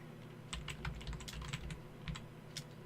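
Fingers tap out quick, irregular bursts on a wonky computer keyboard, the keys clicking faintly and close against a low steady hum.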